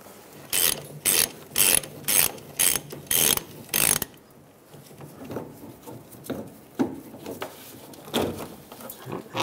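A hand ratchet spins a nut off during a fuel pump replacement on a 1999-2006 Chevrolet Silverado: rapid clicking bursts for about four seconds, then softer intermittent ratcheting and clanks.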